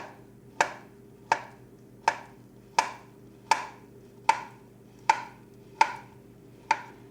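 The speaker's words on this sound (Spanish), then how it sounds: "Los plátanos maduros los vamos a cortar en rodajas, así." A knife slicing ripe plantains into rounds on a board: nine crisp, evenly spaced chops about one every 0.7 seconds, close and clear over a faint steady hum.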